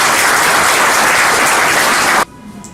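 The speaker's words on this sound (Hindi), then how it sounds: "आप जोरदार ताली से स्वागत करें।" An audience claps loudly to welcome a guest at an education event, a dense burst of applause that cuts off abruptly near the end, leaving only a quiet room.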